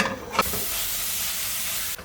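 Medium-fat ground beef sizzling in a hot pot, a steady bright crackle after a brief clatter, continuous and close.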